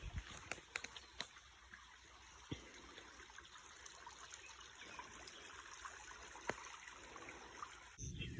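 Creek water flows steadily at a homestead, a constant broadband rush with soft trickling detail and a few faint clicks throughout.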